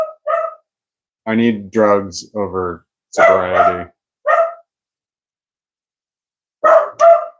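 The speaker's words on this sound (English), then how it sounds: "I'm sorry about my dog." A dog named Yoda barks in a few short, sharp bursts mixed in with someone talking indoors, with pauses between the bursts.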